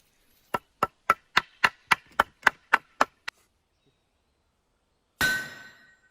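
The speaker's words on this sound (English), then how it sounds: "I'm going to use the handle of the antler to knock it out." About ten sharp, evenly spaced knocks of an antler handle striking flint, close and crisp, then silence and a final scraping crunch.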